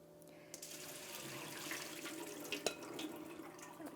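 Buckwheat groats being rinsed in filtered water: a steady wash of running, splashing water with a few small knocks and clinks of a container, close and continuous.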